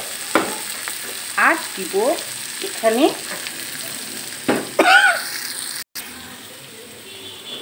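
Turmeric and chili powder fry in a pan with other ingredients, producing bursts of sizzling and stirring scrapes in uneven clusters, with a short spoken phrase and a sudden brief cut near the end.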